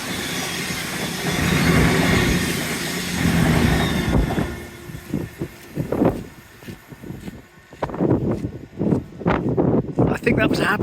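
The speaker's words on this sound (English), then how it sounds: "I think that was a happy train" A train rumbles past loudly and close for a few seconds, then fades away on a breezy day as people start talking outdoors.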